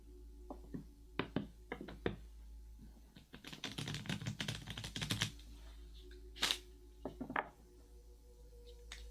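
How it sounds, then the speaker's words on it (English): Tarot cards are shuffled close by, giving quick riffling and tapping bursts with a dense flurry in the middle and scattered knocks around it, quiet and without speech. "Let me just give the cards a good shuffle"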